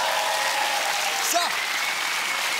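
Studio audience applauding on a German ZDF television show, a steady broadband wash of clapping throughout, with someone briefly speaking over it.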